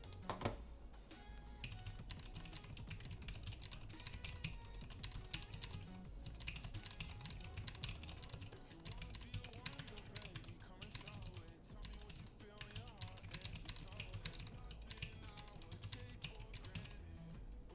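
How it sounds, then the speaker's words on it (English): Steady, rapid typing on a computer keyboard set to a Golang layout fills the whole stretch, with dense clicking keystrokes in bursts and only brief pauses, close and continuous. "I've been typing on this keyboard with Golang layout for a bit more than a year"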